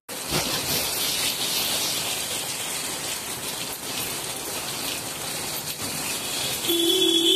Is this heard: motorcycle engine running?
no